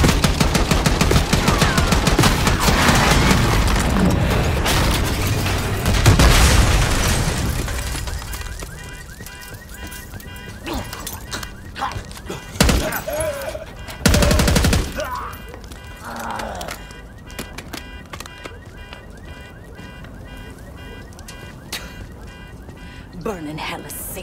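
Dense automatic gunfire in Call of Duty: Black Ops 6, loud rapid bursts that dominate the first stretch, then sparser isolated shots and impacts against quieter game ambience, with shouted voices over it.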